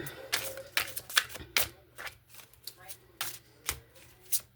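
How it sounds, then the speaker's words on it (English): Tarot cards shuffled by hand on a rainy day, a quick series of crisp riffling and slapping bursts in irregular rhythm, close and moderately loud, with faint speech beneath. "I just don't want the cards to be all slippery when I try and shuffle them"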